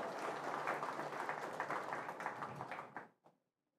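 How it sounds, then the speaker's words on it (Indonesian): Audience applause at a university ceremony conferring an honorary doctorate on Cardinal Ayuso at UIN Sunan Kalijaga: dense, steady clapping from a large crowd that holds for about three seconds, then quickly dies away to silence. "Tepuk tangan."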